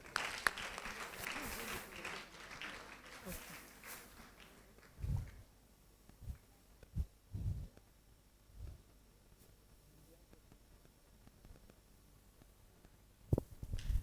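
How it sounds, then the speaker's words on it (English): Audience applause at a food business summit award presentation, a steady wash of clapping for the first few seconds that thins out, followed by scattered isolated claps and thumps in a quieter room. "Let's keep clapping."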